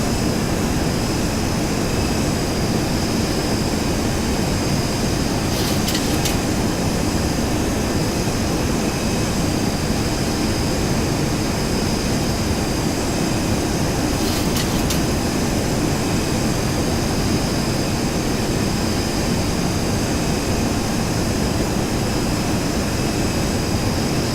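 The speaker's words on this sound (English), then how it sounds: "we'll just listen to the approach and enjoy the whine of the engines there" A Boeing 737-200 jet airliner in the X-Plane 11 flight simulator on approach, producing a steady, continuous engine roar with a constant high whine layered on top, loud and unbroken throughout, with no talking.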